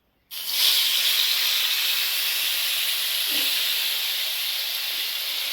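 Tomatoes dropped into a hot pan for a village-style tomato chutney, setting off a sudden loud sizzle that holds as a steady bright hiss, close by, with no talk.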